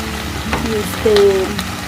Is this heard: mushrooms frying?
yes